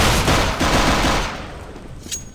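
Rapid automatic gunfire in the game CS:GO, a dense loud burst of shots lasting over a second, then fading into quieter scattered reports with one sharp late crack.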